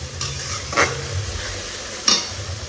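Garlic paste fries lightly in a pan with a close, steady sizzle, broken by two brief stirring scrapes.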